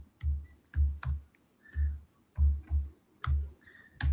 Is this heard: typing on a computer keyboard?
yes